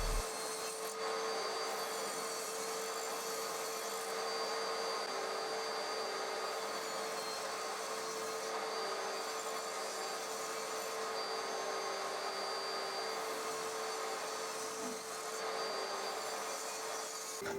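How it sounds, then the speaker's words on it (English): Table saw ripping the beveled faces off salvaged oak pieces, a steady, loud, continuous whine and rushing roar held for the full length, with no voices. "I ripped each face off on the table saw on each piece"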